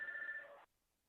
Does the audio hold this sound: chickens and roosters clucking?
no